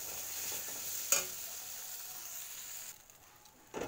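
Turmeric-spiced masala sautés in a pan with a soft, steady sizzle. One sharp scrape or clatter lands near the start and another at the end, and the hiss thins out briefly in between.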